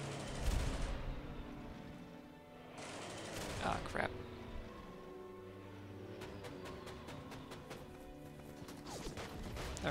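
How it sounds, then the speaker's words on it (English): An artillery barrage in a Soviet-side strategy video game booms in scattered heavy impacts, followed by a quick run of sharp rattling cracks, all fairly faint and layered over a busy battlefield background. "Instead, we're gonna do artillery barrage."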